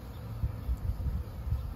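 Honeybees humming in a hive box, a steady low drone with soft pulsing swells that stays continuous and fairly close throughout.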